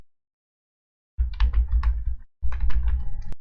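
A burst of rapid computer keyboard typing while entering a search, two quick runs of clicky keystrokes separated by a short pause, close and clear with no talking.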